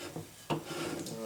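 The table of a Yates American B244 bandsaw makes a short, rough scraping rub, close and fairly quiet, with a brief sharper scrape midway through.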